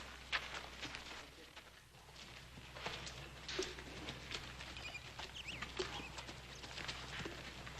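Horse hooves clip-clop faintly at a walk on a Western-era ranch, soft irregular steps under a low background hum, with no talk.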